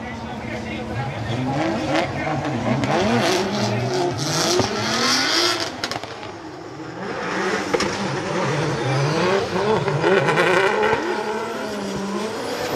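Drift cars at a Formula Drift Japan round, including an A90 Supra, roar continuously with revving engines and squealing tyres, loud and close throughout, while a commentator talks over the action.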